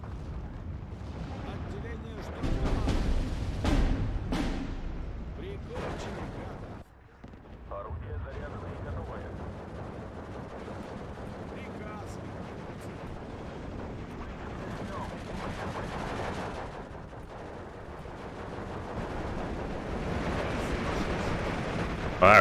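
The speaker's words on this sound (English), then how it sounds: "Those artillery pieces starting to do some serious work." Artillery pounds away in the WW2 real-time strategy game Steel Division 2, during a Soviet campaign battle at Tiraspol. A dense run of booms around the start gives way to a continuous low rumble of distant fire, with no clear pause.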